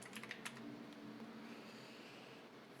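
Typing on a computer keyboard, a quick burst of soft clicks at the start and then fading into a steady low room hum with little else.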